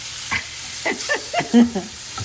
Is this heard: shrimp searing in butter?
yes